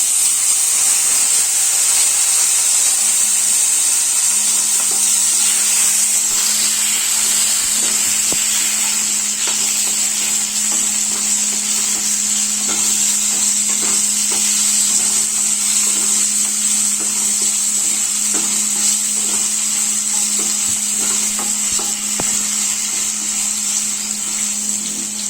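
Potatoes fry in hot oil in a pan with whole spices for Bengali moong dal, giving a steady loud sizzle and hiss that carries on throughout with no talking.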